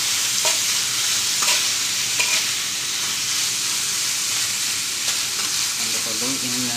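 Bamboo shoot adobo with vinegar sizzles steadily in a pan while a utensil stirs, giving soft repeated scrapes over the continuous frying hiss.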